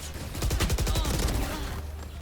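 A rapid burst of Valorant gunfire crackles close and loud in the middle of the clip, then tails off into quieter game ambience.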